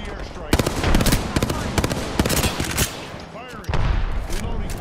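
Rapid bursts of automatic gunfire from a team-based online shooter video game, loud and close, cracking in several clusters with short gaps and one heavier burst near the end.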